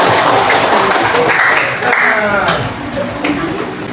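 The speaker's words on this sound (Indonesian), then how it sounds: "Tepuk tangan dua." A classroom of students claps together in a loud, close, continuous burst, following a teacher-led rhythmic clapping game. No voices are heard.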